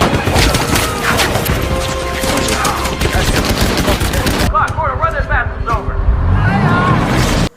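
Dense gunfire and heavy weapons blast in a WWII tank battle film scene, loud and continuous, with the bursts mixed under shouting voices and battle noise.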